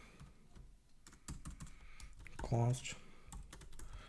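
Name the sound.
typing on a computer keyboard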